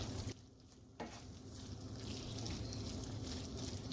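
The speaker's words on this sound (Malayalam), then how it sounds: "ഇനി ഇതിലേക്ക് നമുക്ക് വേവിച്ച് വെച്ചിരിക്കുന്ന ചെമ്മീൻ ചേർത്ത് ഇളക്കാം." Cooked prawns being stirred into a tomato masala in a pan, with a soft, continuous sizzle of frying oil and faint scraping from the stirring, heard quietly and close.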